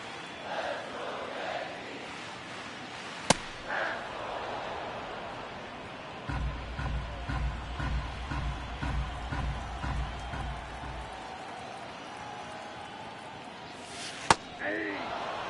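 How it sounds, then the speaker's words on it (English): Stadium crowd noise from a baseball video game, fans rallying behind the Yankees against the Oakland Athletics, a steady roar with rhythmic chanting and clapping building through the middle, with two sharp bat-like cracks. "Crowd trying to rally the Yankees to get some more runs here."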